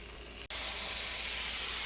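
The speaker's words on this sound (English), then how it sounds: "I didn't want to go out and prepare the grill, so I'm just going to pan fry it." Thin meat sizzling in a pan on the stove, a steady loud frying hiss that cuts out for an instant and returns just as strong, with no talking.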